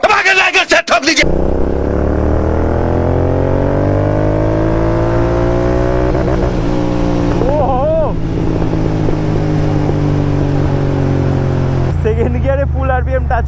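A motorcycle engine runs loud and close, holding a steady throaty idle before revving up and down in a couple of swooping bursts, then settling back.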